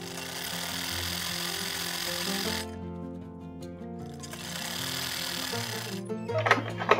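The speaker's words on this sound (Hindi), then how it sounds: "अब हम इस पे एक सिलाई लगा लेते हैं" An electric sewing machine runs steady stitching along the waistband of a cigarette pant, a continuous buzzing whir that pauses briefly, then resumes, ending in a few sharp clicks and clatters.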